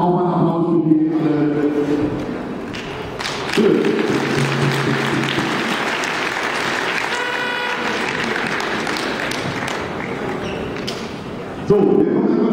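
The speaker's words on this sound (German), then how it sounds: "Auch mal einen Applaus für die alle" A crowd claps at an awards ceremony for a youth football tournament, a steady wash of applause held for several seconds after a brief spoken introduction, moderately loud and fairly close.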